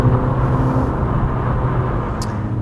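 A Peugeot 5008 seven-seat SUV accelerating hard in sports mode with stability control off, a steady, loud engine drone and road roar from inside the cabin, continuous throughout.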